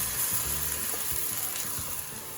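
Chopped spinach, pepper and zucchini sizzle steadily in a pan with onion and garlic, a dense, even hiss with small crackles and pops throughout, close and uninterrupted.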